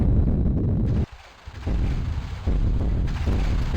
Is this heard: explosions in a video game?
yes